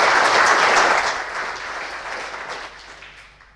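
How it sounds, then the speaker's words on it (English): Conference audience applauding a presentation: a dense burst of clapping loudest at the start, then gradually thinning and fading away toward the end. "let's give him a warm applause for his presentation"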